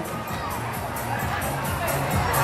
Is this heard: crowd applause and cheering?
yes